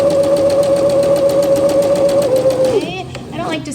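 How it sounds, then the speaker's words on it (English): A home sewing machine backstitches a seam, with a loud, close, steady mechanical whir and rapid needle chatter that runs continuously and then slows and stops near the end, leaving softer handling sounds. "And I'm gonna back stitch."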